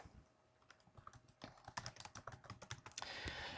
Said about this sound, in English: So I'm going to type in this information.